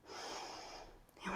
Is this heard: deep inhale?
yes